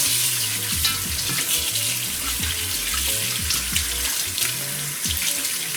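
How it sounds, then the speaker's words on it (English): Catfish being rinsed under a running kitchen tap into a sink: a steady, loud rush of water splashing over the fish for several seconds, with small bumps of handling beneath it and no talk. "Then now I'm going to rinse it at least 3 times"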